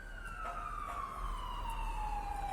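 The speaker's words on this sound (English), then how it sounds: "There's about to be an ambulance passing." An ambulance siren passes outside, its long wailing tone sliding steadily downward in pitch as it moves away, faint and distant over a low background rumble, with no speech.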